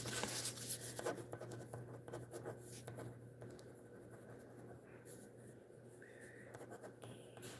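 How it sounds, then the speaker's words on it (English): Pen or pencil writing by hand on paper, soft scratchy strokes continuing steadily at close range over a low constant hum. "Let me write it down."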